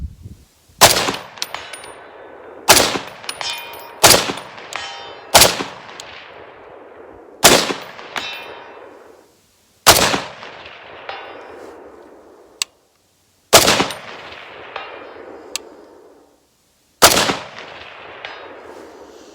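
A SOCOM 16 CQB rifle fires about nine spaced shots at steel targets 100 yards out. Each loud crack rolls off in an echo, and faint metallic pings land between some of the shots.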